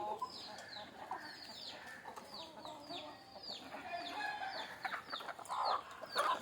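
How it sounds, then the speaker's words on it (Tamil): Native country hens cluck busily while pecking at bran feed in the evening, many soft overlapping clucks and chirps, close by and irregular, with a brief crow-like call among them and no speech. "நான் எல்லா கோழியும் இற சாப்பிட்டுட்ருக்கேன் ப்ரோ."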